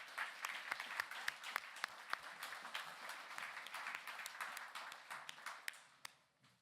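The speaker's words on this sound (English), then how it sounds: "Let's give the Arts Council a round of applause as well." Audience at a comics talk applauds with dense, sustained clapping that gradually fades out toward the end.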